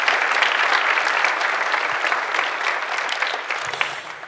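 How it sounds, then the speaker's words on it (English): Applause from a school auditorium audience at a National Honor Society induction ceremony: dense, steady clapping from a large crowd, loud and even throughout, with no talking over it. "Can we give them a quick round of applause?"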